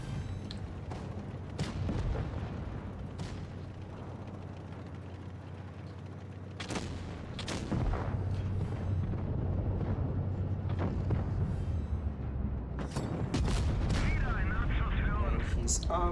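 Heavy video game gunfire from a vehicle's cannon, several loud, booming shots spaced irregularly, with sharp cracks followed by rumbling tails and mechanical clanks between them.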